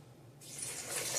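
Water pours into a cooking pot holding Rotel, starting abruptly after a quiet moment as a bright rushing splash that builds slightly louder and continues to the end.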